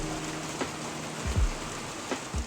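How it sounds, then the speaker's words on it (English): Steady rain falls in New Zealand's South Island, a soft, even hiss close by, with a few heavier drops landing as low thuds. "fell asleep listening to the rain"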